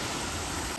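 Water splashing down from a fountain at a Shiva temple lit with green lights after dark, a steady close rushing wash with no talk over it.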